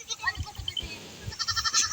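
A goat bleats near a rice field, with several short wavering cries that rise toward the end, close and clear, while people talk nearby.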